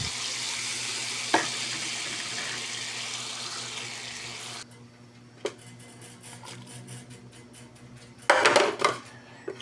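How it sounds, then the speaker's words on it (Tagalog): Water pours steadily into a pot of Bicol-style pansit bato that is already seasoned with soy sauce, patis and oyster sauce. The rushing stream stops partway through, followed by a few clinks and knocks of cookware and a short burst of splashing near the end. "Lagyan na natin ng tubig."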